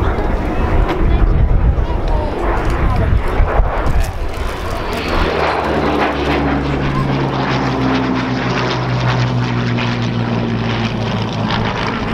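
A Canadian-built Hawker Hurricane propeller fighter flies at the Dunsfold Wings & Wheels airshow, a loud, sustained piston-engine drone that rises and then holds steady as it passes, with a voice talking over it.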